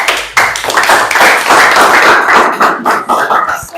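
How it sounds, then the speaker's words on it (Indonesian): Classroom applause for a student named Rosa, a loud burst of many hands clapping that runs steadily for several seconds before trailing off into scattered claps. "aplaus dulu buat Rosa"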